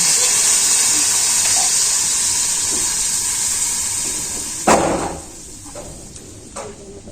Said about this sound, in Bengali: তো আমি কষান শেষ তো আমি জল দিয়ে দিতেছি